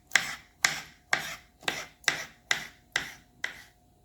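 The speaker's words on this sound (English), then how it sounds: "I'm going to take and cut the tomatoes up in relatively small pieces" A knife cuts tomatoes into small chunks on a board, eight crisp, evenly spaced strokes about half a second apart, close and clear with no talk.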